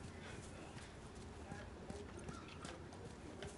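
Horse hooves clip-clop in a steady walking rhythm in The Last of Us Part II video game, faint and quiet, with someone speaking over them.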